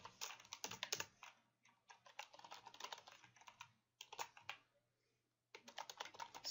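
Fast, crisp tapping on a computer keyboard while code is typed, in bursts of clicks broken by short pauses, close and fairly quiet, with no talking.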